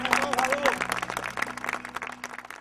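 An audience at a tribute concert claps and cheers, a dense crackle of hands mixed with shouting voices and a rising whistle-like cry, loud and close throughout.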